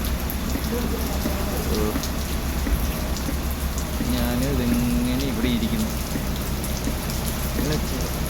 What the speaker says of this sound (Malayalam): നല്ല മഴയാണ് കേട്ടോ ഒരു രക്ഷയില്ല